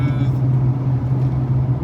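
An old car with a Flowmaster exhaust drives along with a steady, deep, loud exhaust drone and rumble heard from inside the cabin.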